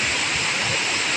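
Steady, dense rush of falling water at Skalon Falls after rain, broad and continuous like a waterfall close by, with no pauses.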